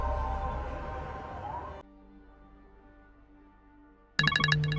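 A telephone rings in a film scene, its electronic ringtone sounding over a faint background, then a quieter tonal stretch, followed by a sudden loud burst of ringing at the end.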